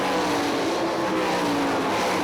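Sprint race car roaring steadily down the straightaway at Hartford Speedway Park in Michigan, a loud continuous engine drone with faint tire noise and no talk.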